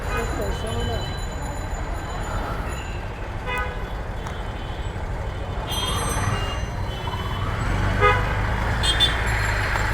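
Traffic jam in Chawkbazar, with repeated car horn toots sounding over a steady, loud street rumble of idling vehicles and crowd noise; voices murmur in the background.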